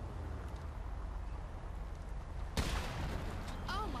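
Gunfire in GTA Online: a sharp burst of shots lands partway through, loud against steady game ambience, followed by further crackling shots near the end.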